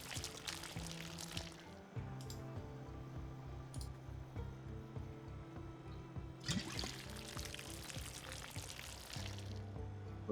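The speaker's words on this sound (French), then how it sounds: "ce qu'on peut faire, c'est verser par terre et récupérer" Spoiled contents poured out of a container onto the ground in Project Zomboid, a quiet trickling pour with sizzling splashes that comes in two bursts over a low background music bed, with no talk.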